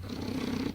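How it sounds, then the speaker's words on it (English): A house cat purrs loudly and steadily up close, a continuous low rumbling drone with no talking, fading slightly at the very end. "That's a nice loud purr from a kitty cat."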